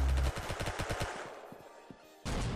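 A rapid burst of automatic gunfire in the video game Arsenal rattles off in a fast, steady rhythm, then trails into a few scattered shots before a loud blast near the end.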